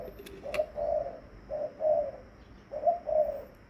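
A pet dove calls in a repeated rhythmic coo, three clear bursts of low soft notes separated by short pauses, close and distinct against a quiet background.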